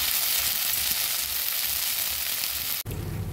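Drumstick leaf paste frying with onions in a pan gives a loud, continuous close sizzle that cuts off abruptly near the end into quieter kitchen noise.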